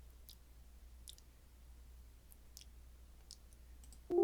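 Computer mouse right click, a few faint, tiny isolated clicks scattered across near silence, close and soft, followed by a brief louder onset at the very end.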